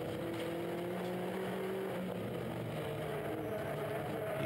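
Seat Leon race cars lapping the Rockingham circuit infield, recorded onboard: a steady, loud engine drone with shifting tonal harmonics running continuously throughout, no voices.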